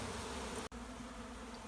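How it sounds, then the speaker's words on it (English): Honeybees buzz steadily around a garden hive, a faint continuous hum with a brief dropout midway, no voices present. "there's plenty more bees on their way back the whole time"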